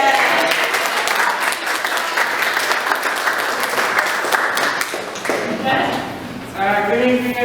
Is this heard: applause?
yes